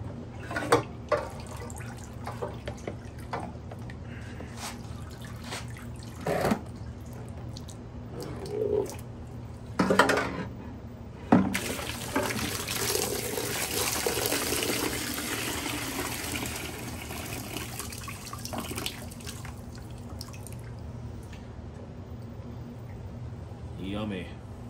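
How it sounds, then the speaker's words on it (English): Vinegar pours out of a rusty 1981 Honda XL500S fuel tank into a bucket, a splashing, gushing stream with intermittent knocks and sloshes, while someone talks over parts of it. "I'm gonna dump it out into this other bucket"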